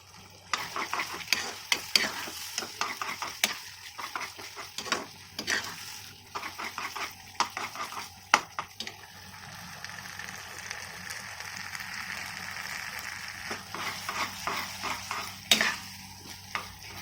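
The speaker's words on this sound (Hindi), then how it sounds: "मसाले को हमें 2 से 3 मिनट तक फ्राई होने देना है।" Masala spices fry and sizzle steadily in a pan for chicken lollipops, with a spoon stirring and scraping against the pan in repeated bursts; no talking.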